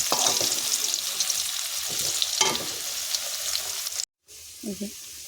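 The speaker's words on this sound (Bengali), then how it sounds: "এখানে লাল লাল করে আলুগুলো ভাজা হয়ে গেছে এবার আমি আলুগুলোটা তুলে নেব" Potatoes frying in a pan of hot oil, a loud continuous sizzle with bursts of stirring scrapes, cutting off abruptly near the end before a brief murmur of voice.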